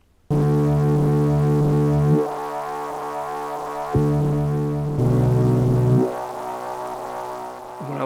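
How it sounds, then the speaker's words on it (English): Arturia MicroFreak synthesizer playing sustained buzzy bass notes while key pressure sweeps the filter cutoff, thinning the low end; several held notes start and stop, each with a small pop as the filter snaps back on release. "push pressure onto it, then it's going to shift that cutoff and get rid of the bottom frequencies"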